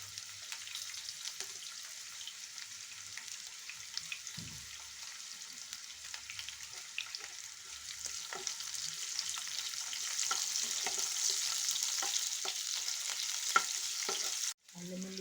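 Onions fry in hot oil in a pan for a cluster beans stir-fry, a continuous hissing sizzle close by with faint scattered stirring clicks, growing a little louder toward the end before a brief dropout.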